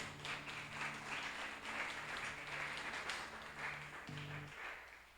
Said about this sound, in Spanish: Dele fuerte ese aplauso al Rey de Reyes.